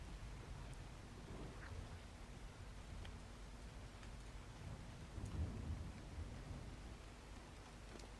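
Steady heavy rain pours throughout in Ark Survival Evolved, with low rumbles of thunder rolling underneath and swelling slightly midway, with no talk over it.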